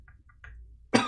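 A single loud, harsh cough bursts out near the end after a few faint, soft sounds, close to the microphone during a live game-development stream.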